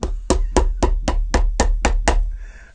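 Hammer blows on a shoe being made, an Alden shell cordovan chukka with Dainite soles: nine sharp, evenly spaced thwacks close to the microphone, heavy and slightly distorted, followed by a brief quieter scrape.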